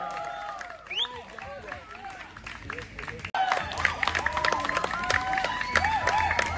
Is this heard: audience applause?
yes